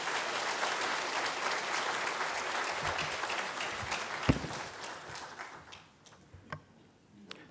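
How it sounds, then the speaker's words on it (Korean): A church congregation at a Sunday worship service breaks into sustained applause that thins into scattered claps and fades out near the end. "여러분 사랑과 격려를 담아 큰 박수로 맞이하겠습니다"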